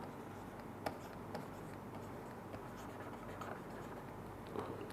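Chalk or marker writing out an example during a linear algebra lecture, faint scratchy strokes with a few small taps against a quiet room hum.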